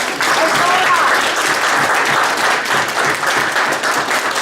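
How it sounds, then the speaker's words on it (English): Sustained audience applause at a library community kickoff event, a dense steady wash of many hands clapping throughout, fairly loud and even. "let's give the Friends of the Livermore Library another round of applause"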